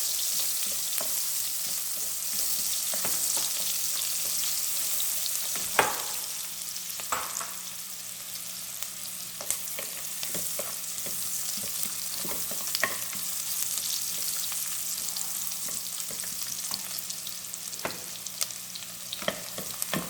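Onions sizzle steadily in hot oil in a pan for chicken pepper fry, a continuous bright crackle with occasional louder stirring scrapes and pops, close and alone without talk.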